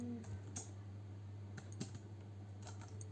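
Faint, sparse keystrokes click on a computer keyboard as Python code is typed. A handful of separate taps fall over a few seconds above a low steady hum.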